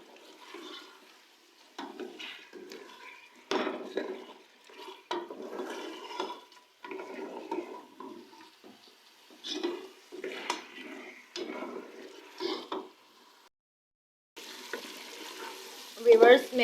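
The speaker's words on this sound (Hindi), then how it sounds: "और अब हम मसालों के साथ गोश्त की अच्छी तरह से भुनाई करेंगे" Goat or mutton meat being stirred and fried with turmeric, salt and spices for a wedding-style degi korma, a steady sizzle broken by scraping of a spoon against the pot, coming in uneven bursts with a brief pause near the end.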